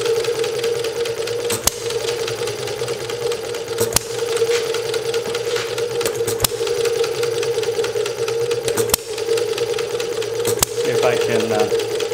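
A hit-and-miss engine running on a vapor fuel tank, with a steady hum broken by sharp firing knocks every couple of seconds, close and loud, while someone talks briefly.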